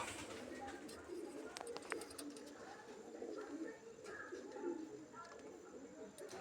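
Pigeons coo softly and repeatedly nearby, low rolling calls over a faint background hum.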